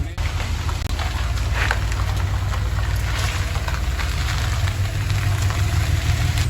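A 1986 Porsche 911 Targa engine runs steadily nearby with a deep, rumbling idle and a rough, crackling texture throughout.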